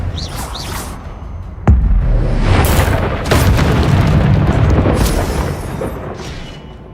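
A sudden deep boom from a Confringo fire spell bursts in a Hogwarts Legacy battle, followed by rumbling, crackling debris and whooshes that sustain for several seconds before fading.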